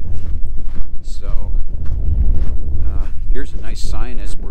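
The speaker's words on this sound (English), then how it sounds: "So it's a little windy." Strong gusts of wind buffet the microphone on a desert hike, producing heavy low rumbling bursts, while people talk intermittently over the blustery noise.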